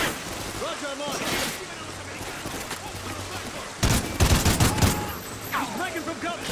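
Gunfire in Call of Duty: Ghosts, with steady background shooting that turns into a loud, rapid cluster of close shots late on, while voices shout over the din.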